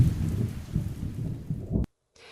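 Heavy rain pours down steadily with a low rumble of thunder beneath it, loud and close, before cutting off abruptly into silence near the end.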